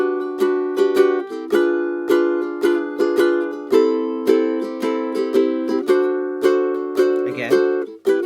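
Ukulele strummed through a chord sequence, four even beats on each chord, with crisp regular strokes and clear ringing harmonics, played alone.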